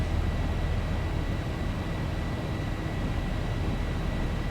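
A Boeing 737 airliner climbing in the X-Plane 11 flight simulator gives a steady, even cabin roar of jet engines and airflow, broadband and unbroken, with a faint constant tonal whine.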